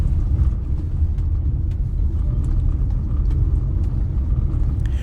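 A Chery Tiggo 4 Pro Elite with a DCT gearbox drives along a gravel road, heard from inside the cabin as a steady low rumble with faint crunching of stones and no talk.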